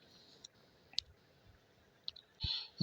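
A few sharp, close clicks of a computer mouse, spaced irregularly against a quiet background.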